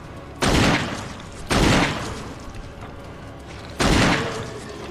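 Three loud, booming magnum shots from Barry in the Resident Evil PS4 remake, each a sharp blast with a long decaying tail, spaced unevenly over a steady game ambience with no talk.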